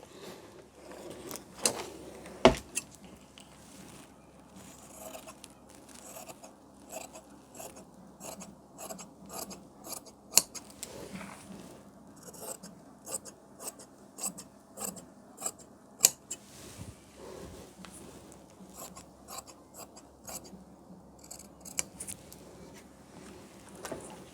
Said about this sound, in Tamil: இப்போ பேக்கை கட் பண்ணிடலாம்